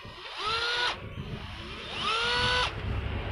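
Japanese-export 9.6V cordless drill running in two short bursts, its motor whining up and holding a steady pitch before cutting off, close and fairly loud with quiet gaps between.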